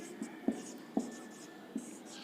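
Pen writing on paper during a maths lesson, a few soft scratchy strokes and taps at irregular intervals, close and quiet with no talk over it.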